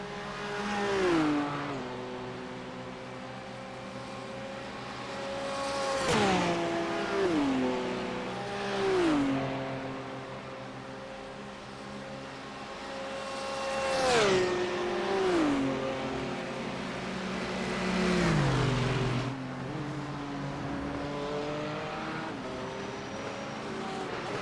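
GT3 race car engine lapping Le Mans at night in a racing video game, revving hard through the gears with repeated downshift blips and pitch drops into corners, loud and continuous.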